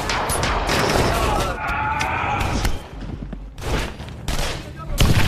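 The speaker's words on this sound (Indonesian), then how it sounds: "sehingga terjadilah baku tembak" Gunfire in a film shootout after an ambush during reconnaissance. Loud, dense volleys of rapid shots and crashes come in bursts with short lulls, and voices are mixed in.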